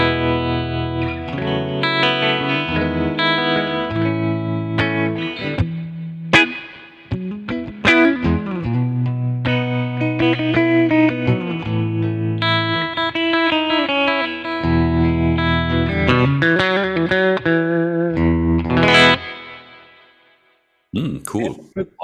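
Electric guitar through a Kemper Profiler with spring reverb and tremolo in an old Fender amp style, playing loud sustained chords and melodic lines with pulsing, wavering tone and splashy reverb tails, stopping briefly near the end before a final strum.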